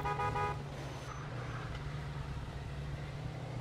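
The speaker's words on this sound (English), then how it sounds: "I don't know how to honk the horn." A car horn from the Mafia 2 video game sounds in a short honk at the start, then fades into a steady low engine hum with no talk.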